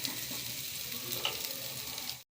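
Potatoes and paneer frying in a small amount of oil give a steady, fairly quiet sizzle with faint crackle, running evenly until cutting off abruptly near the end.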